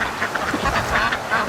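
Ducks from a flock quack in quick nasal bursts outdoors, several calls overlapping for a moment, fairly near and loud over background noise.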